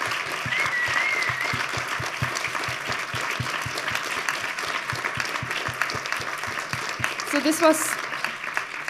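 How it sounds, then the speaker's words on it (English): An audience claps in loud, sustained applause, with a rhythmic thumping underneath. Near the end a voice speaks briefly over the clapping. "a big applause for everybody on stage and off stage"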